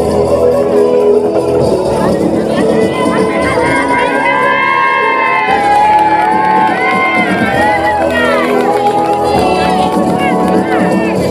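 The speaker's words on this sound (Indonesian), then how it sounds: "sekali lagi suara tepuk tangan yang paling meriah untuk Dada Gaya" A dense, lively crowd at an international cultural festival stage in Makassar cheers and whoops throughout, with steady applause-like noise and babble of voices.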